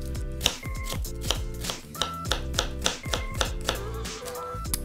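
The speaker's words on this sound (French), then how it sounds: "On va commencer premièrement par ciseler l'échalote." Knife finely mincing a shallot on a cutting board, a quick run of sharp, fairly close taps, roughly ten evenly spaced strikes over soft background music.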